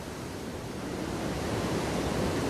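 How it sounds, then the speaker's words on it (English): Powerful ocean swell breaking and splashing against coastal cliffs on a calm, glassy day, a steady roaring wash of surf that builds slightly, with no voices. "You're hearing how powerful it is, and you're seeing how it's splashing up all along this cliff area as well."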